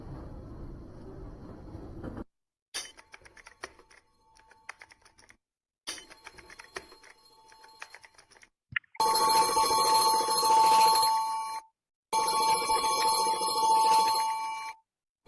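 A simulated household scene with sound rendered by SoundSpaces, where a telephone rings in short bursts. Between the bursts come quieter clicks that sound like typing, and the loud rings stop abruptly between segments.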